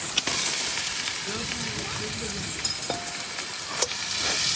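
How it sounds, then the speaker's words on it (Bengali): A potato goes into a pan of frying onions and chilies, the sizzle rising to a moderate hiss with occasional stirring scrapes and one sharp clack, heard close and alone. "পেঁয়াজগুলো কিন্তু ভাজা ভাজা হয়ে গেছে আর মরিচটাও হালকা সিদ্ধ হয়ে গেছে। এখন আমি আলুটা দিয়ে দিই,"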